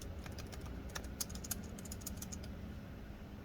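Replaced keys on a MacBook Air A1466 laptop keyboard are pressed in quick, irregular light clicks, faint and close against a quiet room background, with no voice.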